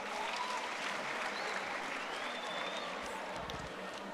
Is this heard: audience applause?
yes